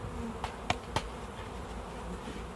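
Honey bees swarm and buzz around a bee package box, a steady close droning hum with a few light taps on the box.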